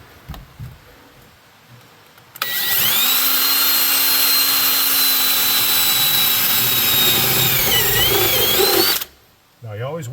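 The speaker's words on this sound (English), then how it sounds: "So here's where we're going to drill through." A power drill bores through a truck's floor underneath, a loud steady whine held for about six seconds with slight pitch shifts before it cuts off, with brief handling noise before and after.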